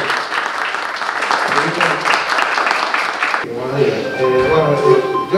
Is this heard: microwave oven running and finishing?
no